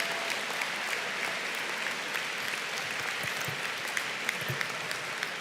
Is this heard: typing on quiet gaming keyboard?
no